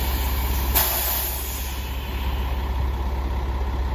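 A 2005 Freightliner M2 diesel truck with a knuckle boom crane idles steadily and close, with a low constant engine rumble and a brief hiss early on as it creeps back and forth.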